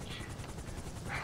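A helicopter in the GTA 5 video game approaches with a faint, steady rhythmic rotor thump under low background game noise.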